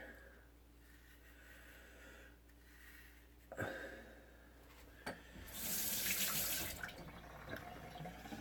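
Tap water runs and splashes in a sink as a freshly shaved head is rinsed after a wet shave with a Gem Micromatic Clog Pruf razor, starting faint and growing to a steady, louder gush near the end, with a few close splashes.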